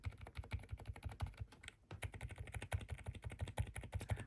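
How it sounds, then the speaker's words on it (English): Keys on a custom Rainy 75 mechanical keyboard are typed in a fast, steady run of close, crisp clacks, with a brief pause partway through and no talking. "this is a sound test of the new keyboard"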